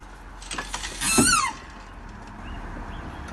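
A squeaky part on a 2012 Kia Picanto gives a short, sharp rising creak-squeal just over a second in, preceded by a few light knocks in a garage, then quiet.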